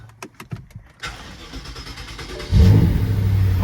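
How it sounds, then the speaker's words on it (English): A BMW X5 M S63 V8 engine, with its crankcase ventilation (PCV) system open, cranks with a few sharp clicks, catches, then settles into a rough idle before revving louder toward the end. "the car is going to make a beautiful whistling sound when I start it right now"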